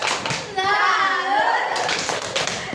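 A school class gives a rhythmic salute clap, a quick burst of claps followed by children cheering and calling out together, with more claps and voices near the end.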